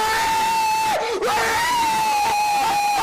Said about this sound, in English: for the little kids, obviously, it's blood curdling screaming